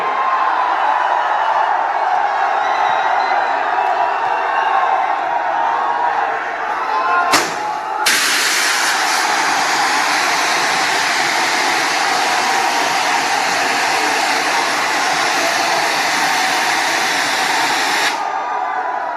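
A huge crowd at a political rally for Rahul roars continuously and loudly, the noise jumping to an even denser, harsher wall of sound partway through and holding steady until it drops back near the end.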